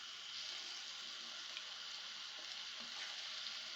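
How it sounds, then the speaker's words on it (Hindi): Beef fries in yogurt in a pan, producing a steady, faint, hissing sizzle that stays even and unbroken from start to finish with no talk. "अब हमने इसे दही में भूनना है अच्छे तरीके से"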